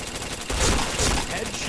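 Rapid automatic gunfire from a shooting video game, a dense burst of shots that swells louder midway through a short stretch.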